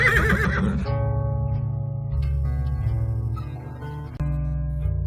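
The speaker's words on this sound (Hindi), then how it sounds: "घोड़ा हिनहिनाता है।" A horse neighs in an animated Hindi story set in a forest, a loud whinny at the very start followed by sustained synthetic tones that carry on to the end.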